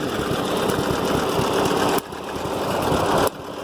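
An old vehicle engine idles down, running at a steady rapid mechanical chatter that is close and loud. Around two seconds in the level drops, then it picks back up slightly before another cut near the end.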